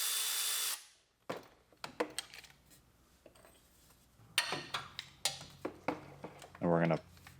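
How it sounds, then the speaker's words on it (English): A Milwaukee power tool works on the bolts of a car AC compressor, with short bursts of whirring and ratcheting between metallic clanks and tool handling, close by and fairly loud. "We're going to use these fancy Milwaukee tools and start unbolting our compressor"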